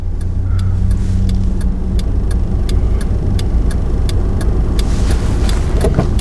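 A car on the road drives past at fairly high speed, a loud, steady engine and tyre rumble heard close up from inside a moving vehicle with a regular ticking pulse over it, no voices.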